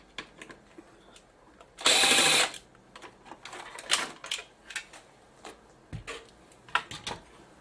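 A screwdriver works loose the last screw in a Samsung LE46A656 TV with a clicking fault, giving close clicks and ratcheting taps plus a loud burst of mechanical rattle, with no talk.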